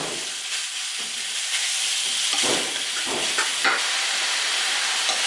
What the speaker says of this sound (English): So once I'm happy with the smell, I'm finally going to let the beef go in.